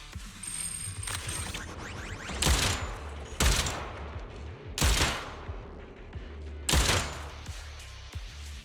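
Cannon shells fire in the video game Zenless Zone Zero on PS5: four or five loud, booming blasts at irregular intervals over a steady mechanical rumble and clatter.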